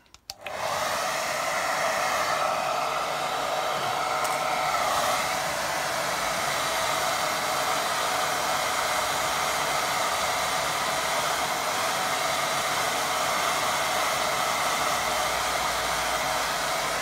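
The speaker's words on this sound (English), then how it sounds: "being gentle with my hairdryer" A hair dryer blows steadily nearby to dry watercolour paint, a constant loud whooshing hum that starts abruptly and runs unchanged throughout.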